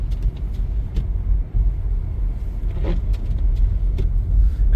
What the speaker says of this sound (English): I hope these wiper blades ain't too loud